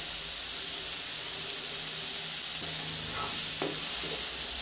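Finely chopped carrot frying in a pan for paneer cutlets gives a soft, steady sizzle and hiss, fairly quiet, with a few faint stirring clicks near the end.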